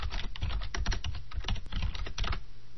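Rapid, close typing on a computer keyboard, a dense run of crisp key clicks over nearly three seconds with no talk.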